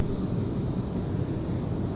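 Amazon Prime Air cargo jet taxiing at Minneapolis–St. Paul airport, a steady low engine rumble and whine holding even, moderately distant, with no talk over it.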